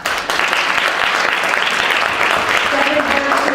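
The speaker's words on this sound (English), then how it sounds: "You can hold your applause until we get to the end." A room audience at a theatre leadership gathering applauds steadily, a dense continuous wash of clapping with a voice talking over it near the end.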